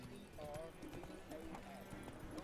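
Horse hooves clip-clopping at a gallop in The Witcher 3, a steady rapid rhythm of hoofbeats mixed with game sounds, with a voice talking over it.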